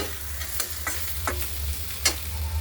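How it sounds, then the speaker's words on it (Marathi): Capsicum and onion fry in a pan for pav bhaji, a low steady sizzle broken by a few scattered scraping stirs, heard close and alone. "शिमला मिरची याच्यामध्ये तळून घेणार, मिक्स करून घेतली"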